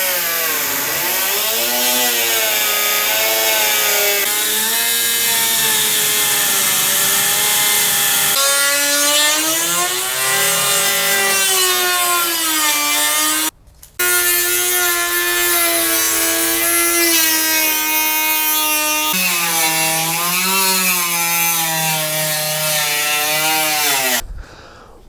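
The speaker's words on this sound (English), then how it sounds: "now a little Dremel action" A Dremel rotary tool grinds steadily through a Daystar hood cowl scoop for the 2015 build, a loud, continuous high whine with shifting pitch that breaks off briefly midway, then resumes and cuts out near the end.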